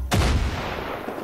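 A single loud gunshot from the video game Far Cry 5 cracks sharply and rolls into a long, fading reverberant tail, with no talk over it.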